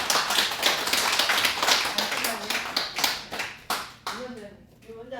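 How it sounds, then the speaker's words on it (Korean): Applause at a dan promotion ceremony: a room of people claps in a steady, dense patter that thins out and fades over the last second. "박수."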